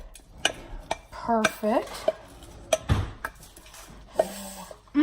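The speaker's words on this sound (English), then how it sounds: "You're just gonna want to pour it into your strainer like this." Cooked macaroni poured from a pan into a metal strainer, with clattering knocks and a wet splashing rush near the middle, amid kitchen clinks and a brief spoken word.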